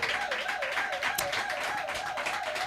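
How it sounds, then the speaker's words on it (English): Audience at a poetry event clapping for a performer, a steady dense patter of hands throughout, with a wavering hum or held tone running beneath it. "can we please clap it up for Sankofa?"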